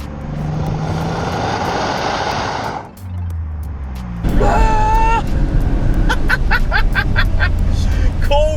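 A Nissan Stagea M35 wagon's V6 turbo engine roars and revs hard, its pitch climbing and dropping in quick surges, with a faint voice briefly audible in the mix.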